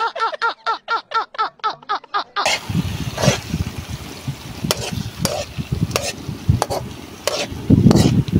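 A ladle stirs tilapia frying in a pan, scraping and clattering in uneven strokes over a continuous sizzle, after a short stretch of a rhythmic, repeating tonal sound.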